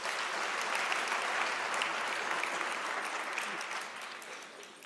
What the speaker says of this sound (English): Can we give that an applause?